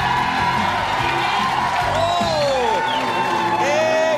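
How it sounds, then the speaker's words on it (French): A live comedy show audience cheers, whoops and applauds for a comedian being introduced on stage, a loud steady crowd roar with shouted voices rising through it. "je vous demande d'applaudir"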